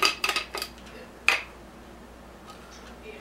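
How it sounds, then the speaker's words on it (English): A plastic lid on an E-Cleaner cartridge is unscrewed, giving a quick run of light clicks and scrapes, then one sharper click a moment later, followed by near silence with faint ticks. "Just unscrew the lid right here."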